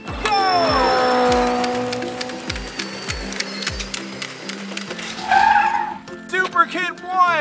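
Kids' ride-on toy vehicles, including a Gator, race with whirring electric motor whines that sweep down repeatedly and rattle close by, followed by excited children's voices at the end.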